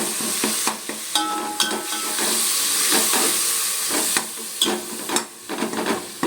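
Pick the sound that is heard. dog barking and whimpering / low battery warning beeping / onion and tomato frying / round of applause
onion and tomato frying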